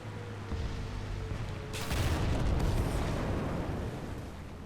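An enemy round strikes a tank in War Thunder: a sudden heavy boom and rumbling crash erupts partway through, cutting over steady engine drone and then decaying into a low roar.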